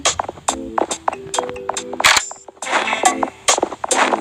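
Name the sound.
gunshots in a video game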